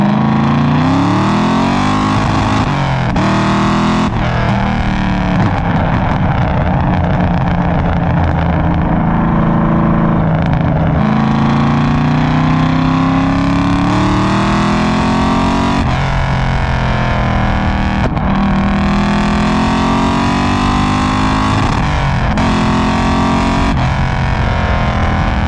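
A deep diesel engine swapped into a Mustang, taken from an Amazon van and making 580 horsepower, drones steadily throughout, rising and falling in pitch as it revs and accelerates, loud and close with no pause.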